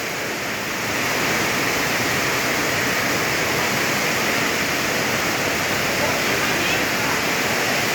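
Heavy rain pours down steadily at a rural Thai home, water running off and draining away in a dense, constant roar that swells in after the first second and holds loud throughout with no talk.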